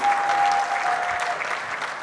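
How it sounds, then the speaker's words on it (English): Steady audience applause fills a stage event, a dense wash of many hands clapping at even loudness throughout, with faint crowd murmur beneath. "Can we please have a big round of applause?"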